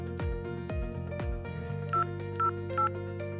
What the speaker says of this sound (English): let me quickly call the fire brigade number 101